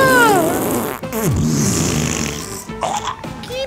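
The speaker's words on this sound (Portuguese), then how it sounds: "Ele tá peidando a rodo." Cartoonish fart sounds from a character in the video game GTA 5, a few loud squelchy bursts close up with game effects around them.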